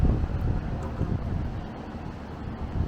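Steady, blustery wind buffets the microphone on a seaside promenade, a continuous low roar with gusty swells and no speech.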